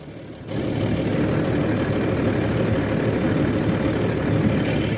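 Low rumble of a tractor engine coming in to tow out a dung spreader stuck in a field, rising in loudness after a quiet start and then holding steady.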